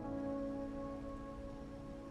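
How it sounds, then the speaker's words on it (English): Steady rain falling in a video game, a soft continuous patter on surfaces under low musical tones, faint and unbroken with no talking. "Or are you simply passing the time until the rain ends?"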